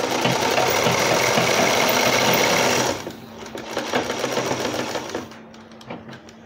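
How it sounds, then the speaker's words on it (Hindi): A sewing machine runs steadily and loudly while stitching a homemade cloth langot diaper for a newborn, its dense motor whir continuing for about three seconds before easing into lighter, uneven stitching bursts. "सिलाई शुरू हो गई हमारी।"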